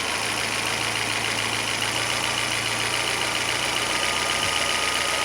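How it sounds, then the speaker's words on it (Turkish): A Fiat Palio 1.4 engine idles steadily with a constant hum, close and fairly loud, as its idle speed is adjusted; any rise in speed is slight. "Bak motorun sesi artacak şimdi çevirdiğimde."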